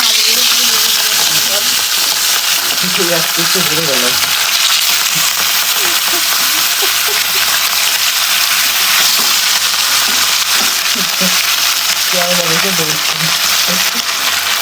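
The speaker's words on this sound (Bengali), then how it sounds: "এখন হচ্ছে মাছগুলো আগে ভেজে নেব" Katla fish pieces fry in hot oil in a kadai, a loud steady sizzling hiss that fills the whole stretch while a person talks intermittently over it.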